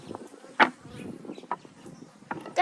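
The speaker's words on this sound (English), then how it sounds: "There's a bee next to me and get rid of it." Bees buzz close by during a backyard beehive inspection, a rough, wavering drone punctuated by sharper, louder passes as an insect flies near.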